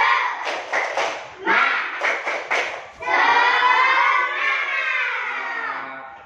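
Fourth-grade pupils in an elementary school classroom clap a quick rhythmic pattern in loud bursts, then break into sustained chanting and shouting together.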